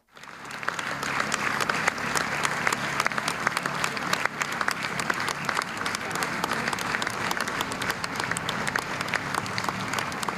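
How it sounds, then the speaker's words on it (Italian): Sustained applause from a crowd gathered at a funeral in the Duomo of Oderzo, for a 63-year-old oncology chief physician leaving the church; dense, steady clapping throughout, with some voices mixed in. "È uscito tra gli applausi il dottor Stefano Lamon"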